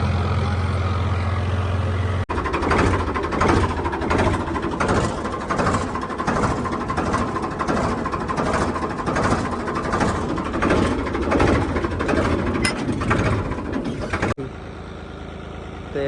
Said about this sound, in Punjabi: ਟਰੈਕਟਰ ਚੱਲੀ ਜਾਂਦਾ